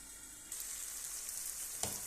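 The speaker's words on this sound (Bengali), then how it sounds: "তো ভেজিটেবলটা কষতেছে" Vegetables sizzle and fry in a hot pan before fish goes in, a soft steady crackle that swells suddenly partway through, with a brief stirring clatter near the end.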